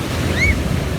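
Sea waves wash at Marina Beach in Dubai as a steady loud surf roar mixed with wind buffeting the microphone, with a brief high bird-like whistle on top.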